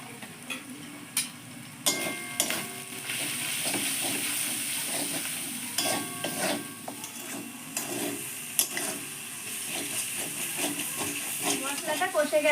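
Masala of chopped tomato, chili powder, turmeric and salt frying in a pan for ghugni, with a steady hiss and sizzle plus occasional stirring clatter; a voice speaks over it at times.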